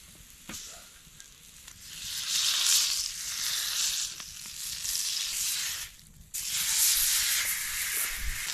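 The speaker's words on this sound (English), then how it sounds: "gonna try to melt this butter without melting my Tupperware" Butter melting in a Tupperware container beside pre-cooked king crab claws warming over a campfire during a snowy winter camp, giving a steady close sizzle and hiss that swells and dips, with a brief lull partway through.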